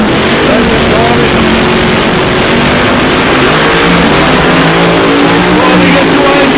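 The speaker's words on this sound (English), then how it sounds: "Wayne Talbot over there in the Plymouth funny car." A Plymouth funny car roars at South Coast Raceway during 660 eliminations, a very loud, continuous engine blast with rising, shifting tones, close and overwhelming, as an announcer's voice is faintly mixed underneath.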